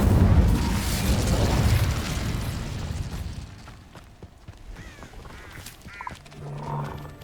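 An Incendio fire spell in the Hogwarts Legacy video game erupts in a loud, roaring burst of flame that rumbles heavily, then fades into scattered crackles and small game effects.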